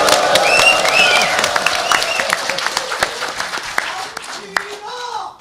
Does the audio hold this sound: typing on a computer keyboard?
no